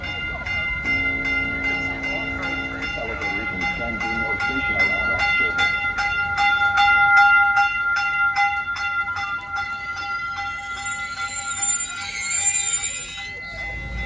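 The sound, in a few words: high-speed train arriving at the station, Santa Clara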